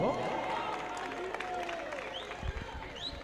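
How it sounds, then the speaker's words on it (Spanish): Football stadium crowd applauding a shot by Tito Espínola, a broad wash of clapping and crowd noise sitting under a commentator's continuous talk, with whistles or calls rising near the end. "El aplauso para Espínola porque no estuvo mal lo que hizo"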